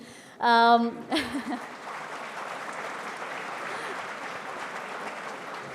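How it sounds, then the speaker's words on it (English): Applause from an audience at an awards ceremony, beginning after a brief voice and swelling into a steady, moderately loud wash of clapping that continues evenly to the end. "they would love to hear applause from you."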